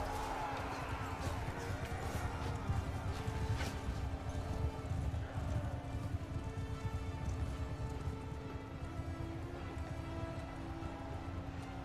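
Cavalry horses gallop across a medieval battlefield in Mount & Blade II: Bannerlord, a dense, continuous drumming of hooves over a steady low battle din with faint voices and clatter.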